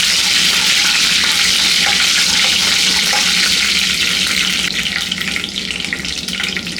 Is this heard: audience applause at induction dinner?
no